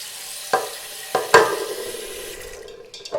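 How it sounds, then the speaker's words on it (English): Cold tap water runs steadily into a pot of uncooked rice, a continuous wet hiss broken by a few sharp knocks and splashy bursts as the stream and grains shift, close and fairly loud. "So I'm adding cold water"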